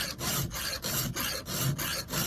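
An old file sharpens the chain of a Husqvarna 395XP chainsaw in close, quiet, rhythmic rasping strokes, about eight in a steady back-and-forth pattern.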